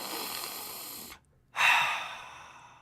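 A dog gives a couple of strong sniffing huffs, close and fairly loud, with a short break of silence between bursts of breathy air.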